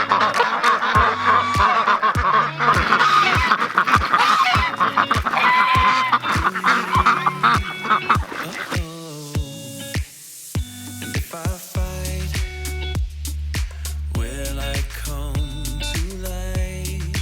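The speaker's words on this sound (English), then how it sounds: "whenever they get ready to go out, they're pretty noisy" Loud, dense honking and quacking from a flock of ducks, calls overlapping continuously and growing more rhythmic and deep toward the end.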